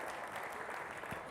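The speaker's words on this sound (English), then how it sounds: "give these folks a round of applause if you don't mind" An audience at a hypnosis presentation applauds the stage volunteers, a brief, even burst of clapping heard alone at moderate distance.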